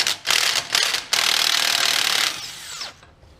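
A ratchet with a 36 mm socket works a nut loose on a GMC 1500 truck, heard as loud, close, rapid metallic clicking in bursts that runs on steadily and then fades out.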